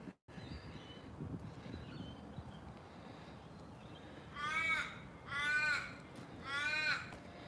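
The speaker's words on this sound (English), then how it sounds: "Oh, I can hear a crow." A crow caws outdoors in the morning after a storm, three drawn-out, harsh calls in a steady rhythm, moderately distant, over a constant wind-like background hiss.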